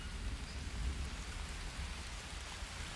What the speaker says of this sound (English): It's gonna rain. It's gonna rain.